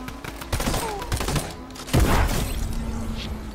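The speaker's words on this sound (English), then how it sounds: "I was getting shot by two different people" Video game gunfire from two different shooters, rapid sharp shots in irregular bursts with heavier thumping impacts near the middle, loud and close, with faint voices briefly underneath.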